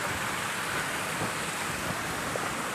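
Jibhi waterfall in a Himalayan village setting, with low-flow water pouring down in a constant, even rushing hiss heard at moderate distance, no talk over it.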